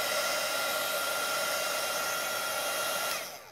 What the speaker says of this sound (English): I'll be using my heat tool